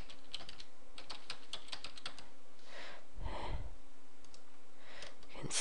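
Typing on a computer keyboard to enter a new password: bursts of quick, close key clicks, a pause, a soft breath, then a few more scattered taps, quiet and with no talking.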